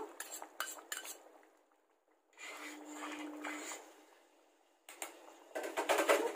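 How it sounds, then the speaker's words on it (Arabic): Chopped hot green chili pepper tipped into okra in a clay pot gives close clinks of a metal spoon against the dish. The clinks come in three short bursts separated by quiet gaps, with no talking. "هروح نازلة عليها بقرن الفلفل الاخضر الحراق اللي احنا"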